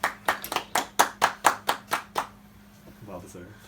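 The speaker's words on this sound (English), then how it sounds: "You clap for Margot Robbie" About nine sharp, evenly spaced handclaps ring out close by in a quick steady rhythm, then stop, followed by a brief spoken remark.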